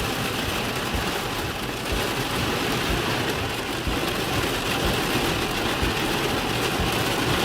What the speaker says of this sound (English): I think it's still hailing small pelts too.